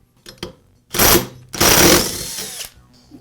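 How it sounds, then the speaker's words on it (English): An impact wrench hammers at the flywheel nut of a Poulan chainsaw under repair, two loud rattling bursts close up, the second longer, after a few light clicks. "I'm going to use an impact to remove the flywheel nut"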